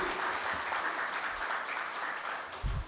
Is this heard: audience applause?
yes